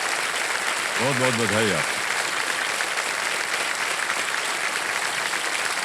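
Studio audience applause on the TV quiz show KBC, a steady, dense wash of clapping that fills the whole stretch, with a voice speaking briefly over it near the start.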